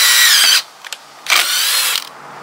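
A power drill boring holes, kept wet with water, whines loudly in two bursts of about half a second each, separated by a short pause with faint clicks.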